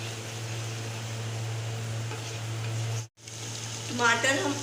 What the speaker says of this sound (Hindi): टमाटर और अदरक लहसुन का पेस्ट हमारा पक रहा है